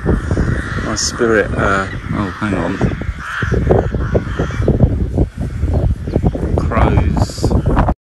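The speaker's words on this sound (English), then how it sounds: "Crows." Crows caw loudly and repeatedly in an old churchyard around an 800-year-old church, harsh calls overlapping with wind and rustling, while a person speaks briefly.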